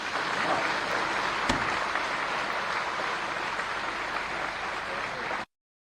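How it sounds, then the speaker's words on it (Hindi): Loud crowd applause at a BJP political rally in Rajasthan, a dense steady roar of clapping that runs for several seconds before cutting off abruptly. "एक बार जोर से तालियां बजाइए।"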